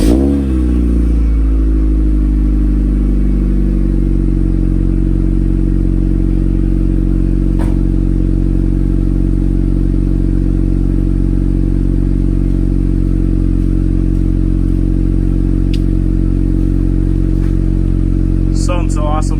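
Sunfire car engine cold starting and then idling with a deep, resonant exhaust drone, loud and close, steady throughout with a few light clicks and blips.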